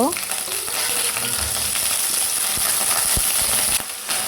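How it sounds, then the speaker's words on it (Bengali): Broccoli frying in hot cooking oil in a frying pan, a loud, dense sizzle crackling steadily up close, with a few light clinks of a utensil against the pan. "একটা ফ্রাই প্যানের মধ্যে রান্নার তেল নিব। তেল গরম হয়ে গেলে ব্রকলিটা দিয়ে দিব।"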